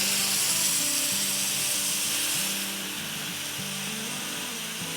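Tikka chicken pieces hitting a pan on high heat, giving a steady, bright sizzling hiss that softens slightly midway, with a faint low mechanical hum underneath.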